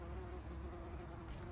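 Bees buzz steadily around scented flowers on an allotment, a continuous close drone with no gaps, heard alone.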